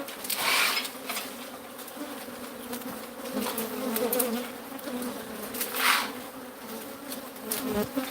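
A dense swarm of bees buzzes continuously at close range, a droning hum that swells and fades as insects pass near, with no voices.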